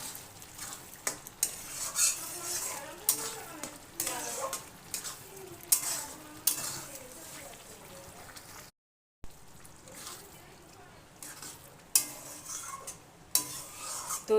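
Spinach and chickpeas cook in a pan after garam masala goes in, with repeated scraping stirs of a utensil against metal over a soft sizzle, close and uneven, pausing briefly midway.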